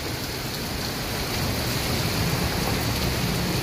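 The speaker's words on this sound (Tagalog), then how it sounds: "malakas pa rin po yung pag-ulan" Heavy rain pours down steadily over a large infrastructure construction site, a dense, loud, unbroken hiss of drops beating on surfaces with no voices.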